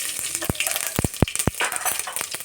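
Mustard and cumin seeds crackle in hot oil for a sambar tempering, a few sharp pops rising above a steady frying hiss, close and with no talk.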